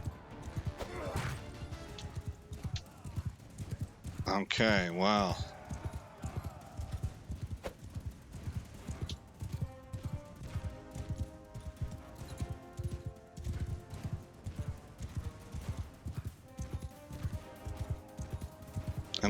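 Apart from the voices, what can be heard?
horses galloping and neighing in video game Crusader Kings 3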